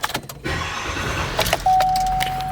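The keys for a 2019 GMC Sierra 3500 HD Crew Cab Denali jangle in a short, close metallic rattle. A steady chime tone and a low engine hum follow.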